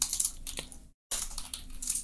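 Rapid, crisp keystrokes on a computer keyboard while entering a SQL command in phpMyAdmin, a clicky burst followed by a short silent pause and then more quick tapping, close and fairly quiet.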